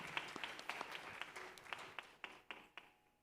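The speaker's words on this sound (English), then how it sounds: "Please give a round of applause for our wonderful musicians." Audience applause for the accompanying Carnatic musicians at a Bharatanatyam arangetram recital: scattered, fairly faint claps from a small crowd, thinning out over a few seconds.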